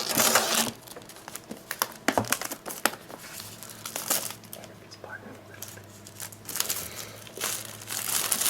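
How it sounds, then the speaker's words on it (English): Scissors cut into the plastic wrap on an iPad third-generation box, giving close crinkling and crackling of the film with a few sharper snips and rustles in irregular bursts. "we're just gonna cut into this plastic like so"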